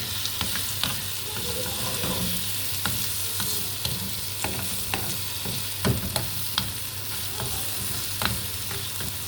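Eggs and shakshuka sizzle in a frying pan while being stirred, with a constant close hiss and sharp scraping clicks at irregular intervals, no voices.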